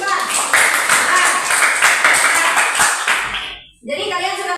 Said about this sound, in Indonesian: tepuk tangan untuk Irfan.